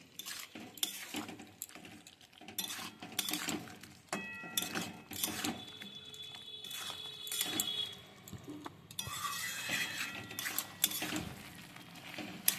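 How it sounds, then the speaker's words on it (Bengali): A spoon stirring ground poppy seed paste in a pan, with quiet repeated scraping and clinking strokes against the metal at an uneven rhythm, soft and close, with no talking. "পোস্তটা দিয়ে ভালো করে আমি মিশিয়ে নিচ্ছি"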